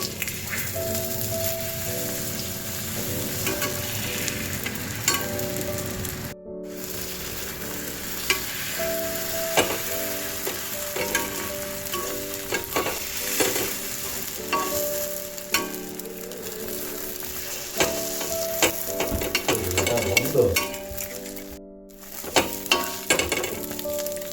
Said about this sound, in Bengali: গরম হয়ে গেলে এর মধ্যে দিয়ে দেব বাকি ডিমটা এরকমভাবে এই ডিমটাও রোলের মতো করে ভেজে নেব